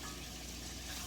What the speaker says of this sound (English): some of my onions are starting to brown a little bit